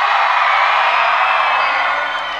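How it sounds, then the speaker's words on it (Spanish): A large crowd at a fan event for Spider-Man: Far From Home shouts and cheers in a loud, sustained roar. It holds steady and then eases slightly at the end. "afuera voy a querer que se echen un grito que se escuche hasta acá adentro"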